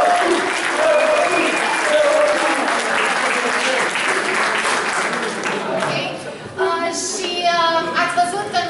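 A school audience at Liceul Tehnologic Dumitru Dumitrescu applauds after a forum theatre performance, a dense wash of clapping that thins toward the end as voices and speech come through.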